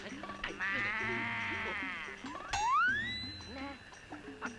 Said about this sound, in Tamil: பக்கத்திலேயே இன்னொரு மாடு கத்துற சத்தம் கேக்குது.